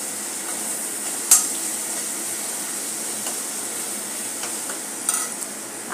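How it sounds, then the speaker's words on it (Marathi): Green masala paste sizzles steadily as it is sautéed in a pan for a lentil curry, with a few sharper clinks and stirring bursts over the continuous hiss. "हिरवे वाटण आपण जे तयार केले होते ते घालून घेऊया। हे चांगले परतून घेऊ।"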